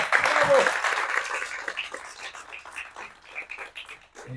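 An audience applauds at a book launch presentation, a dense burst of clapping that starts strong and fades over several seconds as a voice begins speaking.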